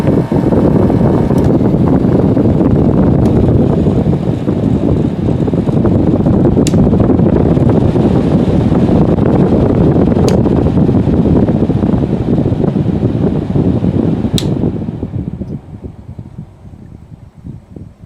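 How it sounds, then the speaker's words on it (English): A fan spinning down, a loud steady whooshing drone that holds for a long stretch, then fades and weakens toward the end, with a few faint clicks along the way. "The fan is spinning down."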